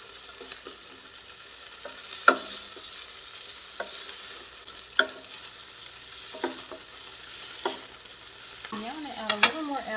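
Beef browns in shortening in a pan, a soft continuous sizzle broken by sharp scraping clicks as the meat is turned every second or two, with no one speaking.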